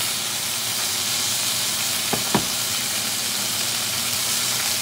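A freshly flipped ribeye steak sizzles in a hot pan, a steady loud frying hiss throughout with a couple of brief crackling pops near the middle, no voices.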